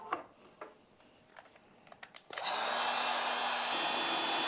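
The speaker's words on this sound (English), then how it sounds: "So first we got this heat gun." A heat gun powered from a 48 V 100 Ah battery cart clicks a few times, then switches on and runs with a steady loud whooshing roar of fan and hot air to the end.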